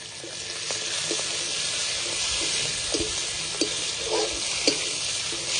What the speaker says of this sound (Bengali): চিংড়ি মাছটা দিয়ে হালকা করে ভেজে নেব।